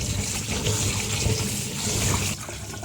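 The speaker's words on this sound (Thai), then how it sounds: "ปอกเสร็จแล้วนำมาล้างให้สะอาด ล้างน้ำเปล่าสัก 2 รอบก็พอนะครับ" Water running over peeled pumpkin pieces being rinsed clean for a Thai pumpkin-in-coconut-milk dessert, a steady splashing tap-and-sink wash throughout, close by, easing off near the end.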